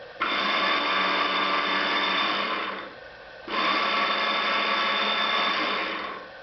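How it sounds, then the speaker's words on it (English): Mid-1990s Ford Mustang ABS pump motor running on a bench, a loud steady electric whine in two bursts with a brief spin-down and quiet gap between, close up with no talk. "And so that motor works, spins up nice"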